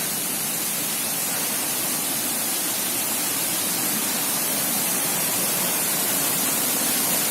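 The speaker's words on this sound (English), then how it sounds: "So this is Mankayam Waterfall." The Mankayam waterfall in Kerala rushes as an unbroken, dense hiss of falling water that is close and loud, with no voices over it.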